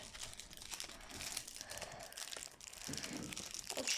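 Football trading card pack being torn open, a steady crinkly foil rustle and tearing that runs throughout, close and fairly loud, with faint talk briefly in the background.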